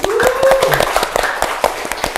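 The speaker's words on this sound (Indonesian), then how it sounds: "Boleh tepuk tangan dulu dong." An audience claps in crisp, irregular bursts close to the mic while people keep talking over the applause.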